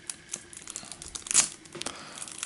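Plastic wrappers on Marvel Champions card game packs crinkle and tear as they are opened, a close series of sharp rustling bursts with one louder rip near the middle.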